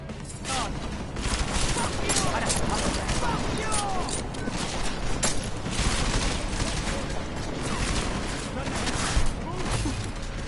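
Rapid gunfire from the video game Deus Ex: Mankind Divided rattles almost continuously, dense bursts and mechanical clatter filling the scene while voices talk over the action.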